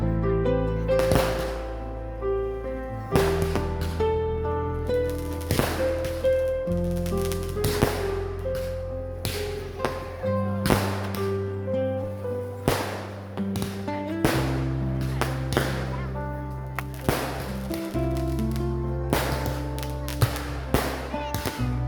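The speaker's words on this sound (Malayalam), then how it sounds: "അവസാന അമിട്ടുയരുന്നു. വലിയ ശബ്ദത്തോടെ പൊട്ടുന്നു." Aerial firework shells burst again and again at a night church feast in Nadukani, sharp booming cracks arriving every second or two over loud, sustained music.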